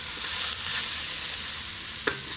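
Beef and broccoli browning in a hot pan, a loud, steady close-up sizzle with a single clink of a utensil near the end.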